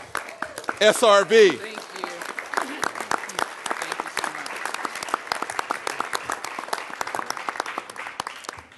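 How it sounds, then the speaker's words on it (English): After a brief spoken thanks, a round of applause rises at the 2015 US Conference of Mayors annual meeting press conference for the incoming president, then continues as sharp, evenly spread claps from a moderate-sized crowd. "let's give a round of applause for our incoming president"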